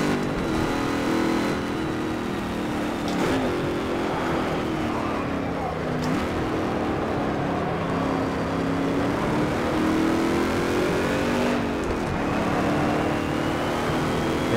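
A Boss V8 race car in Project CARS at Bathurst drones loudly with a high engine note that rises and dips through manual gear shifts, with brief breaks at each change, heard continuously.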